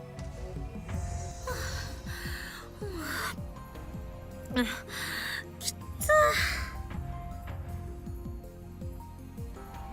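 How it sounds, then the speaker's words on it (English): A character in the Steins;Gate visual novel gasps for breath, several short heavy breaths and gasps over a backdrop of game music and ambient sounds. "Suzuha gasps for breath while Mayuri calmly munches on a banana."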